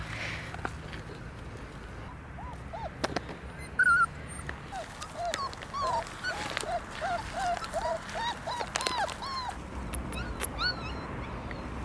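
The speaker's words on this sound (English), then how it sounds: "Are these your pups?" Stray puppies in a Roma village in Romania whimper and whine in repeated high yips, with a few sharper barks and clicks, close and fairly loud throughout.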